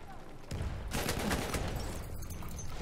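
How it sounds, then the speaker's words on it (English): Machine gun fire rattles in a rapid burst in the video game Battlefield 1 during a Conquest match, loud and dense after a quiet start, with a soft voice briefly audible. "Enemy machine gun sighted."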